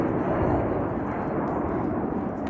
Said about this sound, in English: Just see the red arrows there flying over the school.